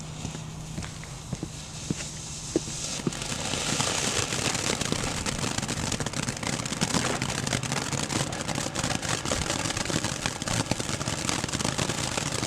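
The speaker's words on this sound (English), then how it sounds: "Alright, now we have a Butterflies and Flowers by Boomer Fireworks. Let's see what this thing can do." A Butterflies and Flowers novelty firework by Boomer Fireworks goes off in a sustained hissing, crackling spray with scattered sharp pops, steady and loud for several seconds after a quieter start.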